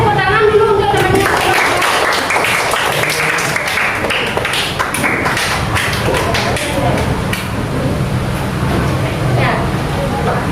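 A classroom of students claps for a group about to present, loud close-up clapping with thumps and taps and a murmur of voices running through the whole stretch.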